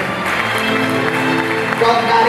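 Church congregation applauding during an anniversary service, a loud steady patter of clapping with a sustained tone ringing underneath and voices mixed in.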